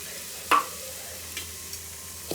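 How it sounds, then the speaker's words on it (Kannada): Semolina (rava) frying in ghee while being stirred, a low steady sizzle with a few sharp scraping stirs of a spoon against the pan, close and alone without talk. "ರವೆ ಅಷ್ಟೇ ಚೆನ್ನಾಗಿ ಫ್ರೈ ಮಾಡ್ಕೋಬೇಕು"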